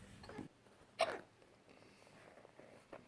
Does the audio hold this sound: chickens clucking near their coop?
no